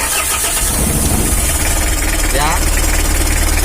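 A Mitsubishi L300 engine with the throttle held fully open runs steadily at high revs, loud and close throughout, with someone speaking briefly over it.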